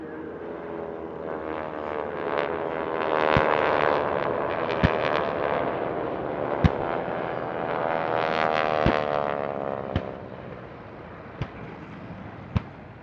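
A formation of T-6 Harvard propeller trainers standing in as Japanese aircraft during a Pearl Harbor reenactment at a warbird airshow, a steady, swelling engine drone punctuated by several sharp explosive bangs from staged pyrotechnics.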